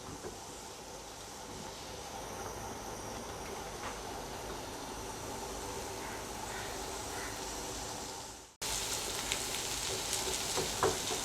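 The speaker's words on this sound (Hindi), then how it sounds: "इसको भी हमने ज़्यादा नहीं भूनना, बस हल्का सा सॉफ्ट करना है प्याज को भी" Chopped onions softening in a pan for homemade pizza sauce, giving a steady broadband sizzle that runs continuously, briefly cut off near the end and then resuming, with no talking.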